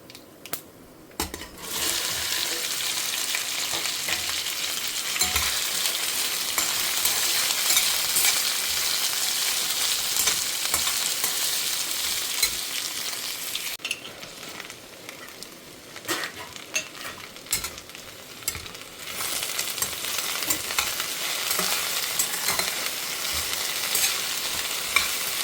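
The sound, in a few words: frying mustard seeds, urad dal and chana dal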